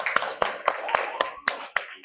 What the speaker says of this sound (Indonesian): Baik, tepuk tangan untuk kita semua ya.